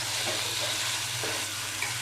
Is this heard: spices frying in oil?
yes